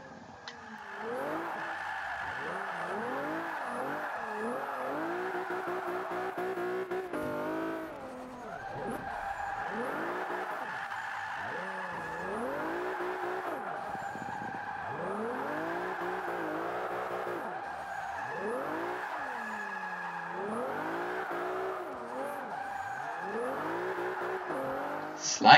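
A Honda S2000 drift build in the Forza 5 racing game slides repeatedly with long, swooping tire squeals and a revving engine that rises and falls. The sound is fairly close and runs continuously with no talking.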